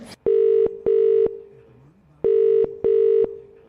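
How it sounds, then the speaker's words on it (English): A telephone being dialed, with four steady, loud tone beeps in two pairs separated by a short pause, heard alone and close. "let me dial him up"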